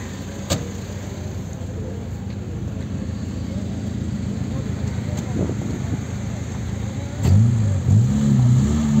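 A car pulls in at an open-air car market, its engine rumbling under nearby chatter and then swelling into a louder revving surge near the end, with a short door-like knock early on.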